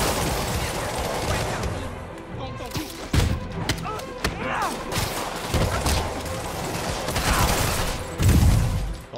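Bursts of gunfire in Spider-Man on PS4 Pro, with heavy thuds and booms, irregular shots scattered through a dense, noisy action soundscape.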